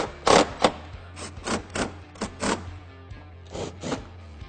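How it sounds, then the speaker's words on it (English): A power driver tightens screws that hold a fender flare onto a truck. The motor whirs in a series of short, separate bursts of varying length, close by, with no talking. "And then we'll go ahead and start tightening these screws down."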